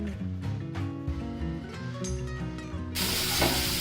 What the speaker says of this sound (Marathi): यामध्ये आता मिरची, आलं, लसणाचा ठेचा आहे ना ते घाला.